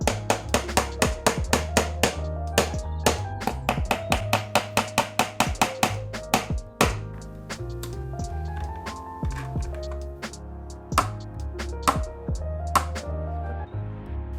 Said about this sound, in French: Puis au marteau.